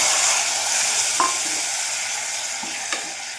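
Onions and green chillies fry with spices in a pressure cooker, a steady close sizzle with a couple of faint stirring taps, no voices.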